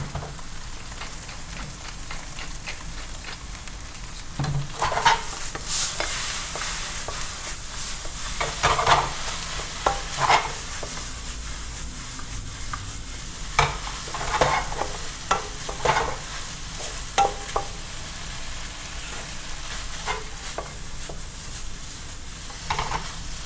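Udon noodles stir-frying in a hot pan, a steady sizzle with repeated scraping and tossing clatter from the utensil, loud and close throughout with no talking.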